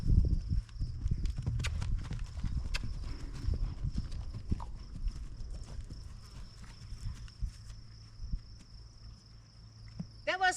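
Aries the horse canters to the right, his hooves thudding in a rapid repeated rhythm on the ground, close and clear, with a steady high insect chirr in the background.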